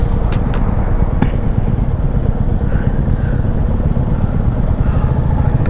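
A motorcycle rides through busy traffic on a road near Mcleodganj, Dharamshala in Himachal Pradesh, with a steady loud engine drone mixed with heavy wind buffeting on the microphone and a few faint horn-like tones.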